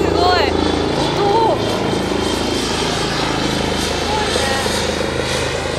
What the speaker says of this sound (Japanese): お、すごい、ヘリも飛んでる。